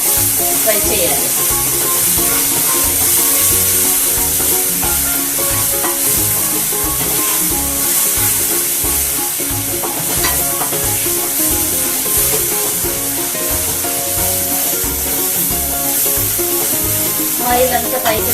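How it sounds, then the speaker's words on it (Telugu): Paneer masala fries with yogurt in a pan, giving a loud, steady close sizzle with stirring scrapes and clinks running throughout. "2 స్పూన్స్ పెరుగు, పెరిగేసుకొని బాగా ఫ్రై చేయాలి."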